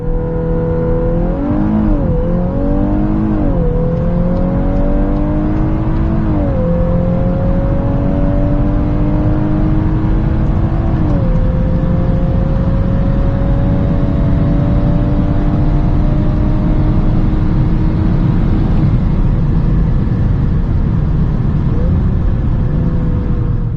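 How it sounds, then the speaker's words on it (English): A Volkswagen Golf R Mk8 accelerates hard from 100 to 200 km/h, the engine note loud and close inside the cabin as it climbs and drops briefly at several gear changes over a constant road roar. "So let's now see how fast the Golf R goes, 100 to 200."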